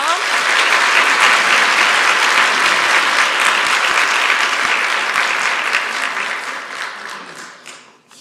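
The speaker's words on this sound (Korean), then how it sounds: "큰 박수로 맞이해 주세요" A church Sunday school audience gives loud, sustained applause welcoming a young elementary student speaker to the stage, dense clapping that holds steady before fading away at the end.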